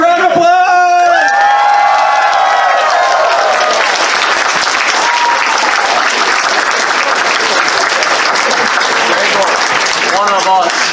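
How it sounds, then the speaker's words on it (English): Loud, dense crowd applause with cheers and whoops at a furry convention's closing ceremony, sustained evenly throughout after a brief shouted chant at the start. "Give a round of applause."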